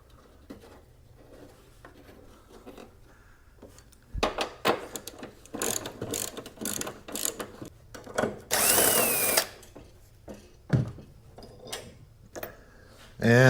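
A power tool on a Mazda 3 spins out the strut top bolts in short, loud bursts with ratcheting whirs and metallic clinks between them, over quiet garage background.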